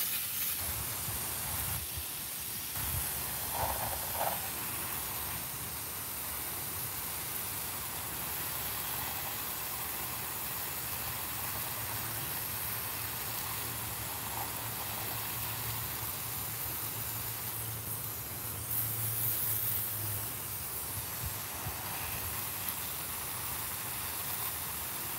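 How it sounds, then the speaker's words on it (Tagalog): Garden hose spraying water onto plants on a hot morning, a steady broad hiss of spray running continuously at moderate level, with a faint low hum in the background. "Kailangan ng talagang magdilig."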